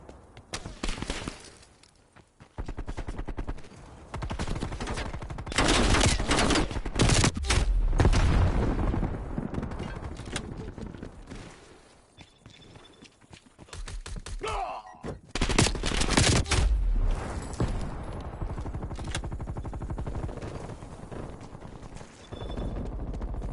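Gunfire in a Call of Duty Cold War battle with hostile snipers, loud bursts of shots and booms in two intense stretches separated by quieter moments, mixed with combat noise.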